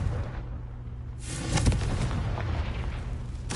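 Confringo fire-spell explosion in the video game Hogwarts Legacy, a low booming burst following a quieter rumble, with a second blast starting at the very end.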